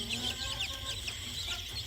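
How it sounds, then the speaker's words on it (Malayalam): Native chicks cheep in a steady, overlapping chorus of thin, high chirps, fairly close and continuous, with no voices. "ഇതാണ് നമ്മുടെ കോഴിക്കുഞ്ഞുങ്ങൾ, നാടൻ കോഴിക്കുഞ്ഞുങ്ങൾ"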